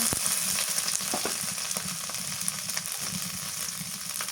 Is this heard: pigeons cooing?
no